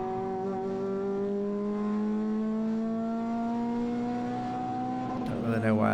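A Renault Clio RS 200 on a race track accelerates at full throttle, its engine note climbing steadily and loud from inside the car, then a brief shift at the end, with a voice talking over it.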